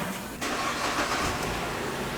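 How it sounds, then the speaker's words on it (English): A car engine cranks and catches during an EVAP system gross leak test, a short burst of starter noise settling into a steady, close running engine. "Start the engine."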